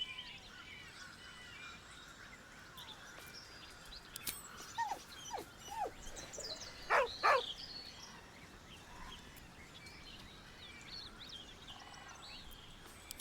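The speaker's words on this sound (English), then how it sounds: "With a deep, heartbroken whine, the dog bows his head" In Baldur's Gate 3, a dog lets out a few soft, heartbroken whines over quiet game ambience, rising to a couple of clearer whimpers midway before settling back into the hush.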